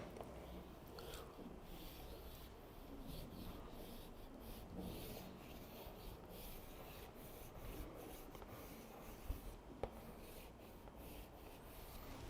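Pen scratching out traditional Mongolian script on paper without a backing sheet, a steady soft rubbing and scraping of nib on page, close and quiet, with a couple of small taps near the end.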